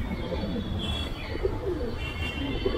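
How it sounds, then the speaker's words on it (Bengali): High flying pigeons coo in low, rounded, overlapping calls, several birds murmuring steadily and close by over a continuous background hum, with a few faint chirps mixed in. "অনেক পায়রা।"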